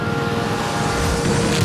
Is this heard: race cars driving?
yes